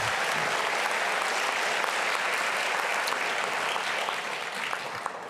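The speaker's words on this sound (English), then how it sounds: "Give them a round of applause." Sustained applause from an audience at an awards ceremony honoring middle school students with high GPAs, dense steady clapping lasting throughout and tapering slightly near the end.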